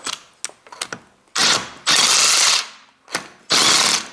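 A wrench slips and ratchets on a rounded wheel bolt, heard as a few short clicks followed by three loud, harsh grinding bursts with brief pauses between them, close up and without talk.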